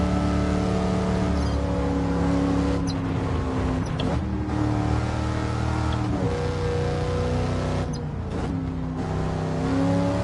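A Pontiac Firebird Trans Am engine in Gran Turismo 7 drones loudly on the Nordschleife, its pitch sweeping up and down as it accelerates and shifts, with no voices.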